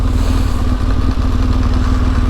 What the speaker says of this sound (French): Moi je suis en moto, j'avance pas